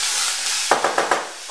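Peeled, diced apples cook in a covered pan over low heat without added water, giving a steady soft hiss with a short run of faint rhythmic crackles partway through.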